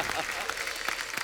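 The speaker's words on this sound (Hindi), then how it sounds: "एक बार जोरदार तालियां हमारे मेहमानों के लिए आई है भैया" A studio audience applauds guests on a comedy show, a brisk burst of clapping with sharp individual claps under a voice speaking over it.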